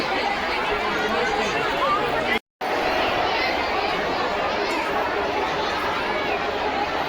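A huge crowd murmurs and chatters without pause at a Shiv Mahapuran katha gathering, a dense wash of many overlapping voices with a short dropout partway through.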